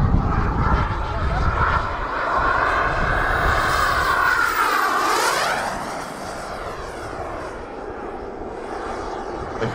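A radio-controlled jet's turbine burning JT4 kerosene fuel at a warbird fly-in on an airfield: a loud, steady roaring whine whose pitch rises and then falls away as it passes, with a voice talking over it.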